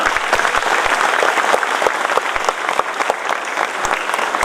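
At a Dr. Ambedkar Jayanti gathering, the crowd claps loudly and steadily, a thick wash of hand claps with sharper individual claps standing out near the listener, continuing unbroken with no talking.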